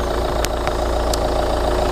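A Volvo S40 car engine idles under its open bonnet, a steady close mechanical hum with a low rumble, plus a few brief faint ticks on top and no talking.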